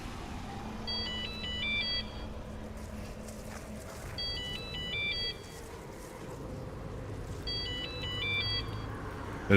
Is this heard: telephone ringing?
yes